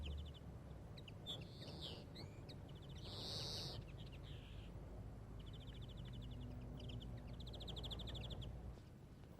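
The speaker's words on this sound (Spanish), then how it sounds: "El último tirón pone en alerta a un nutrido grupo de pájaros que emprenden la huida." A flock of small migratory birds startles and takes flight outdoors, scattered chirps and calls rising over a steady rustling ambience, fairly faint and distant, with no voices.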